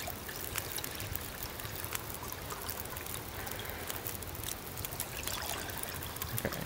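Water pours steadily for making rose hip tea in the survival game The Long Dark, a continuous close trickling and splashing stream with no break.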